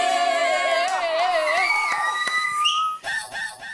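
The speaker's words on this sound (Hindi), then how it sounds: "अरे सीटी" A whistle in a comedy scene gives a long, loud, wavering tone that bends up and down, then breaks into short shrill bursts among noisy, excited voices.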